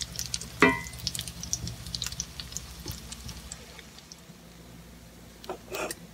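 Salmon patties fry with a soft sizzle crackling steadily in a pan, with a brief clatter of utensils near the start and a few faint clicks later.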